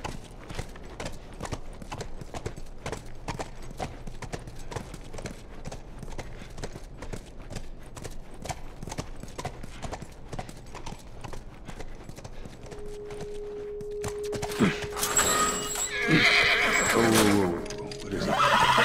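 Horse hooves clip-clop in a steady rhythm with a whinny during gameplay in The Last of Us Remastered, followed near the end by a louder burst of game sounds and a sustained tone.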